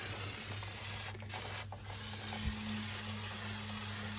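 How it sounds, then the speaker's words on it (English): Brake and parts cleaner sprays in a steady, continuous hiss against the wheel hub during a wheel bearing re-pack on a Tanami X15B, with a low hum underneath. "This is brake and parts cleaner, so it will dry and leave little to no residue"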